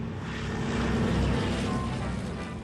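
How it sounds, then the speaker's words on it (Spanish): Four-engine propeller transport planes drone overhead in a constant, heavy, rumbling roar, loud and unbroken throughout. "El constante ruido de los 4 motores de los aviones es insoportable."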